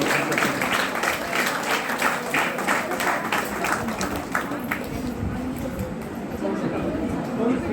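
Loud, sustained applause from a crowd at a college felicitation ceremony during a student union closing event, dense and steady clapping that fills the whole stretch and fades slightly toward the end.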